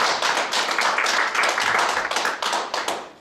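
An audience at a lecture event claps to welcome a university president, brisk and fairly close applause with crisp individual hand claps, holding steady for a few seconds before easing off.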